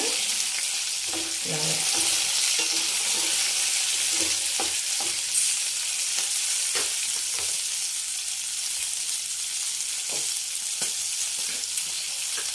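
Green chillies fry in a pan for coconut chutney, a steady close sizzle with scattered pops and a few stirring clinks throughout, and a little faint talk in the background.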